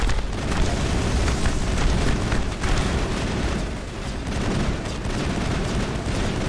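Explosions and gunfire fill a Mass Effect battle, a dense continuous roar of booms and bursts that stays loud throughout without any clear voices.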